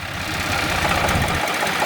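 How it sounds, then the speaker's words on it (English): A tractor engine runs steadily nearby, a loud, continuous idling rumble with a faint knocking throb and no voices over it. "So that's why we got a tractor."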